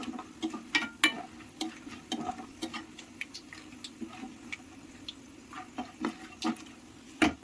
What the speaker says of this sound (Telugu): మనకు అప్పుడే తెలుస్తుందండి ఇత్తనం ఇలా పగులుతుంది అనమాట, అప్పుడు వేగినట్టు బాగా